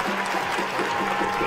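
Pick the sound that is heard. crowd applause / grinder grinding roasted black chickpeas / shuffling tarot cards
crowd applause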